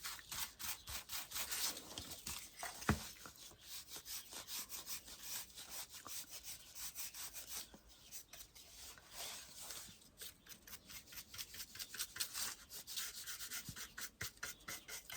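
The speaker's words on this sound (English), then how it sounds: "Now let's go in with some brown wax. This is the Jolie top coat" Brown wax top coat being rubbed by hand into a wooden piece, giving repeated scratchy strokes in an uneven back-and-forth rhythm, quiet and close with no talking.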